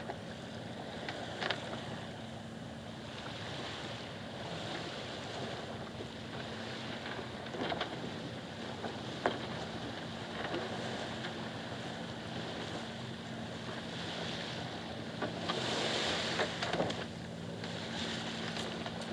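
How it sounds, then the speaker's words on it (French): A steady boat motor drone runs continuously at sea near Frioul, mixed with wind buffeting and waves washing around the hull, with occasional knocks and splashes. "on a redémarré le moteur"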